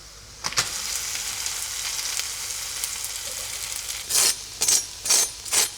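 A vegan vegetable pancake wrapped in rice paper fries in a pan over medium heat, giving a steady crisp sizzle with sharp crackling bursts toward the end.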